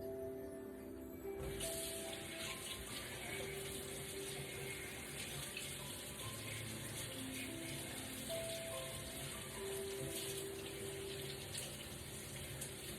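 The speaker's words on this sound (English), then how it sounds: "let me wash my hands" Tap water runs steadily while hands are washed under it at a kitchen sink, a continuous close splashing stream with faint clinks in the background.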